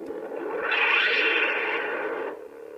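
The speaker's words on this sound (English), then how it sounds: "And we have force sounds, so this is the power bomb." The Super Metroid power bomb effect, used as a lightsaber force sound, swells into a single loud, reverberant whoosh. It holds for about two seconds, then drops away abruptly.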